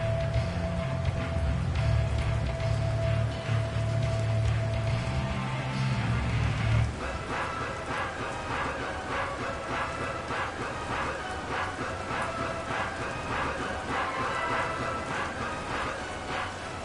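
Rain falls steadily on the field during a Commanders at Broncos football game, a continuous hiss with a low hum fading out partway through, fairly loud and without clear speech.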